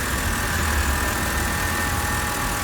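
A BMW car engine runs steadily with a continuous broadband hum and low rumble, close and fairly loud throughout, with no pauses or talk.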